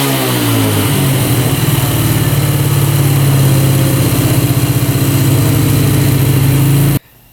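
A quad ATV engine runs steadily and loudly up close with a pulsing, slightly uneven putter that reflects a faint hesitation, then cuts off abruptly near the end.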